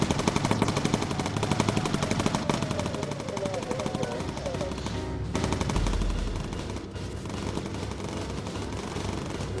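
Rapid machine-gun fire in a WWII American bomber video game, continuous rattling bursts over engine drone, with a louder blast partway through and a voice talking briefly.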